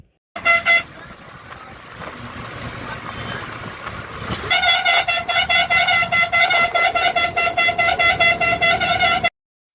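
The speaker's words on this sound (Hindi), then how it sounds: "ये ड्राइवर इतने हॉर्न बजा रहा था" A vehicle horn honks twice on the road to a Marathi wedding, then after a pause blares in a rapid, continuous series of short toots over road noise.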